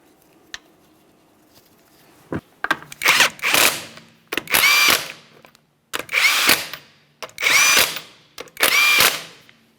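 An impact tool drives the five lug nuts onto a 2012-2015 Honda Civic wheel: five loud, close bursts of whirring, rattling hammering, each about a second long and separated by brief pauses, with a few clicks before them.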